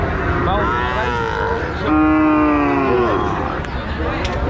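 Cattle at a busy livestock market low in long, loud moos, one strong call rising over another amid constant crowd noise and nearby talking.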